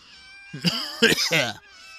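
A house cat meows close up, two or three drawn-out, tonal cries in quick succession, fairly loud, with no talking.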